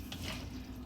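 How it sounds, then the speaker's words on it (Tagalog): Macaroni fruit salad with kaong being stirred in a bowl makes a brief, soft, wet scraping and squelching sound, close and quiet. "Halu-haluin na lahat, guys."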